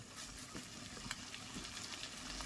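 Tender young goat mutton with spices sautéed in a pan, a faint, steady sizzle with soft stirring scrapes.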